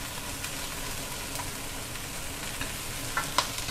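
Food pan-frying in a pan gives a soft, steady sizzle at moderate distance, with a few small crackles and light utensil clicks near the end.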